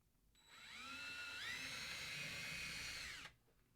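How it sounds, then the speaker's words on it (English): A power drill whirs up, holds a high steady whine for about three seconds while drilling a small hole in a mini ballista part, then cuts off sharply, heard close and alone. "I'm going to drill a small hole in it."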